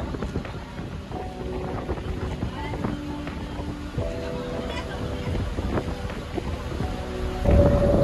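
Gusty northeast monsoon (amihan) wind roars across the microphone at sea alongside a boat's engine drone and splashing water over strong waves, with voices talking now and then.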